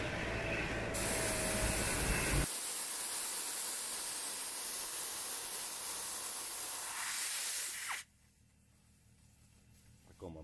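Air rushes out of a truck's air brake system in a loud, steady hiss that shifts in tone partway through, then cuts off abruptly, leaving a quieter background.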